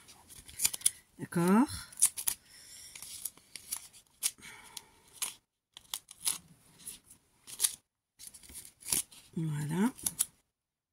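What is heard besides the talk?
scissors cutting paper for a scrapbooking page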